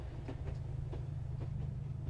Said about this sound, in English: And the train pulls in.